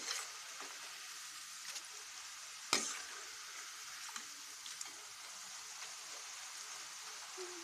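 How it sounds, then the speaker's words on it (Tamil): Grated tapioca fries in a pan for chips, giving a faint, steady sizzle with scattered soft crackles and one sharper clink near the middle, no voices. "இப்போ போட்ட துருவல் வந்து ஒரு பக்கத்தில் நல்லா ஃப்ரை ஆகிடுச்சு ரெண்டாவது பக்கம் இப்படி போட்டுக்கலாம்"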